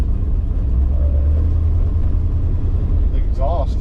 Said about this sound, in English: The exhaust, it's not too loud.